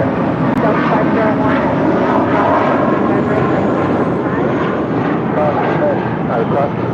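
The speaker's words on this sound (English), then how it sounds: "That is Volaris Flight 923 departing to Zacatecas on an A320." A Volaris Airbus A320 jet departs for Zacatecas, its engines a loud, steady broadband roar that holds for the whole stretch, with voices talking over it.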